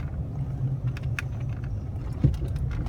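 A car engine idles steadily at low pitch just after a test drive, a continuous rumble close by with a brief thump partway through.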